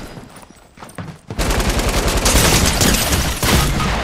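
Gunfire in the OG Fortnite battle royale game played on PS5, starting with a few scattered shots, then a loud, sustained barrage of rapid repeated shots.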